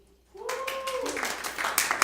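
Applause from a small audience at an evening show breaks out after a brief quiet and builds, with a sung or sustained voice tone trailing over the first part, then scattered clapping continues to the end.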